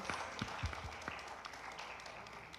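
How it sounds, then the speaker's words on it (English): Audience applause closing an international zero waste cities conference, a modest round of scattered claps at moderate distance with a few sharper individual hits near the start, fading into a low roomy murmur. "let's give one last round of applause to our speakers before we close the whole conference"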